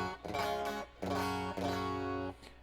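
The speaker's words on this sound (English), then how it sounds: "I've got my Strat running through the Champ now." A Fender Stratocaster played through a Champ amp on a clean, bone-dry setting rings out three short strummed chords in a quick, quiet sequence with no effects.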